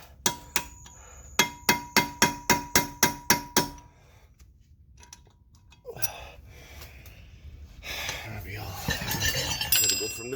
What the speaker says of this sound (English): bang my chisel or my point at an angle, and it actually started to turn